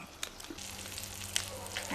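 Balut eggs sizzle in a frying pan, a steady soft hiss with small pops and crackles, fairly quiet and continuous throughout.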